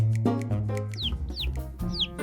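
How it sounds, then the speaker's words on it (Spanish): A hen clucks near the listener while her nine newly hatched chicks peep in short, high, rising chirps, the calls overlapping in a busy, steady chorus with no talk. "Los pollitos piaban y seguían a su madre a todos lados."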